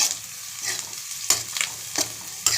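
Grated ginger and garlic frying in a pan for egg rice, with a soft, steady sizzle broken by a few sharp stirring scrapes and clinks near the mic.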